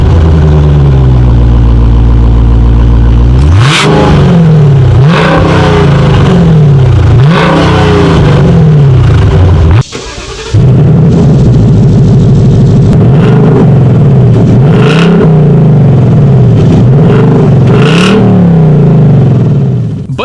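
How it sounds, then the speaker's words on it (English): A loud muscle car exhaust revs over and over, each blip rising to a roar and dropping back to a burbling idle, with one brief cut. "Let me just play for you the exhaust clips of my previous reviews"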